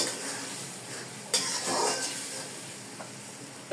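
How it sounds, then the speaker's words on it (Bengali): Small fish coated in turmeric, salt and chili sauté in a pan with a continuous close sizzle, broken by a few sharp scrapes and clinks as they are stirred. "এখন আমি মাছগুলোকে কষিয়ে নিব"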